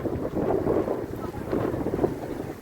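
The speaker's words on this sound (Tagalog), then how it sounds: "Mahangin." Strong wind blowing outdoors at Coney Island, a steady loud rumble buffeting the microphone throughout with no voices heard.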